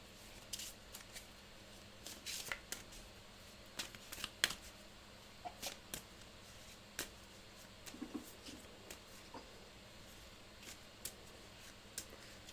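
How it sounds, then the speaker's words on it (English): Cards for the 7th Continent board game are shuffled on a table, soft riffles and irregular quiet flicks and taps spread over several seconds. "Yep, shuffle them up, take 4."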